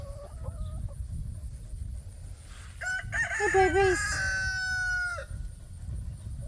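A rooster lets out one loud, drawn-out crow nearby. Before it, brief clucks sound over steady wind or outdoor rumble, and a voice speaks briefly.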